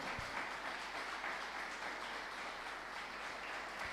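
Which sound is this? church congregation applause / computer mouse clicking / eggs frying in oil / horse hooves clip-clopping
church congregation applause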